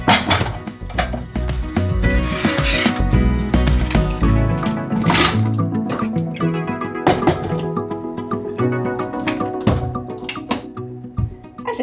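Dishes being stacked into storage in a Roam camper van, with bright clinks and knocks of crockery over a loud, continuous music bed throughout.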